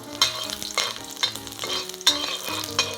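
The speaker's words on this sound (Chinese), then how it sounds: "然后加入蒜子和姜片， 把蒜子和姜片爆香" Garlic cloves and ginger slices sputter in hot oil, a close sizzle that swells and fades as a spatula tosses them in rhythmic strokes, about four pronounced stirs in a few seconds.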